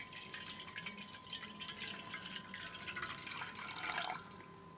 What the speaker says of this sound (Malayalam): ഒരു ചരുവത്തിലേക്ക് നമ്മൾ എടുത്തു വച്ചിരിക്കുന്ന വെള്ളം ഒഴിച്ചു കൊടുക്കുക.